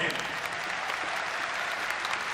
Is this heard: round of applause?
yes